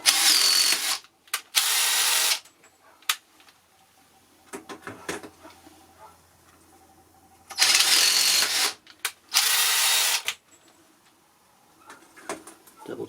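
Stainless steel rivets go into a kiln hinge in short, loud power-tool bursts, two early and two later, separated by quiet stretches of clicks and fiddling with the hinge.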